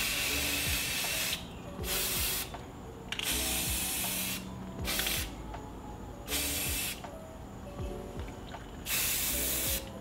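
Several bursts of aerosol spray paint on a Bakugan Wavern figure, each a steady hiss lasting about a second, separated by short pauses with faint clatter in between.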